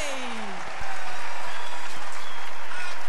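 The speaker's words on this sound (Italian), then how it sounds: "applauso" Festival crowd applauding a band at the Primo Maggio Fest 2024 in Lido Valderice, a broad, sustained burst of clapping that starts just after a falling tone and continues at steady strength.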